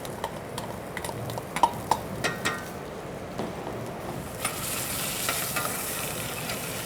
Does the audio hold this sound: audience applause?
no